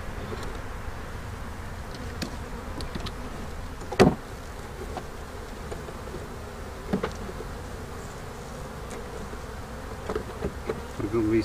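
Honeybees drone steadily while being moved into a school observation hive outdoors, a constant low buzzing swarm close by, with occasional faint knocks and clicks, no voices.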